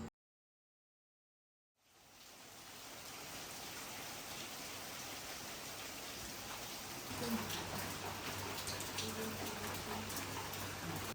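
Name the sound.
rain falling on a rainy morning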